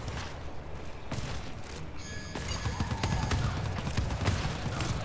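Gunfire in the modded co-op shooter game GTFO, a rapid burst of shots and sharp impacts that rises after a quieter start and carries on over a constant low background rumble.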